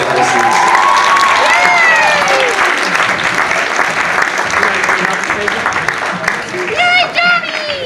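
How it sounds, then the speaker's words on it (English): Students at a band banquet receive loud, sustained applause from the audience, with cheering and a few high whoops and whistles rising over the clapping, while voices talk underneath. "Let's give these students a round of applause as they take their seats."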